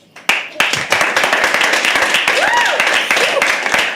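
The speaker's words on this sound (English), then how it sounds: "Round of applause चलेगा." A small audience at a live poetry open mic claps steadily after a performance, a close, lively patter of many hands starting abruptly and continuing, with a brief voice heard briefly within.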